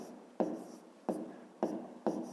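Pen or pencil writing numbers by hand on paper during a fifth-grade maths exercise: four short scratchy strokes at regular intervals, close and fairly quiet, with no talk.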